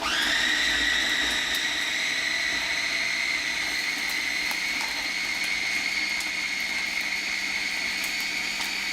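A blender blitzes tomato and leftover chilies for mole, a loud steady high whirring motor that spins up at the start and holds an even roar for the whole stretch, with no talk over it.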